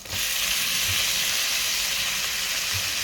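Tomatoes hit hot oil with garlic and ginger, setting off a loud, dense, continuous sizzle that holds steady and close throughout, with no talk over it.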